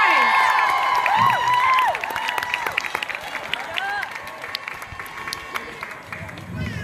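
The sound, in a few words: crowd applause for Greta at climate strike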